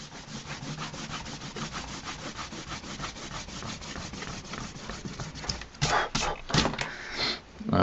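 An eraser rubbing on drawing paper, making fast repeated close scrubbing strokes in a steady rhythm, growing louder and more irregular toward the end.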